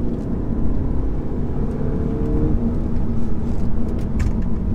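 Interior engine and road noise from a 2018 Audi A3 2.0L quattro accelerating hard, a steady loud low rumble and whir building throughout, with no talking.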